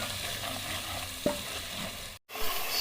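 Turmeric, salt and spices frying in a pot for degi aloo gosht, with a steady close sizzle, one sharp clink of a spoon against the pot partway through, and a brief dropout near the end.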